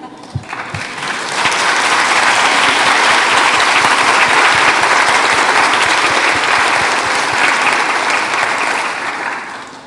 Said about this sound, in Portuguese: eu queria convocar a todos a dar uma salva de palmas à Cristiane